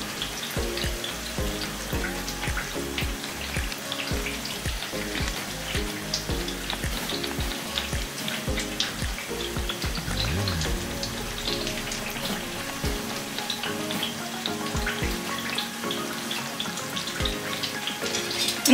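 Wheat flour chips bubble and sizzle steadily in hot oil, a continuous close frying hiss with soft popping throughout.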